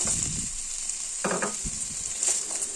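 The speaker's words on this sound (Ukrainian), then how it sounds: "Будемо додавати вершкове масло і обсмажувати нашу цибулю на вершковому маслі до золотистого кольору." Onion fries in butter with a constant bright hiss, broken by a few short bursts of stirring and scraping in the pan.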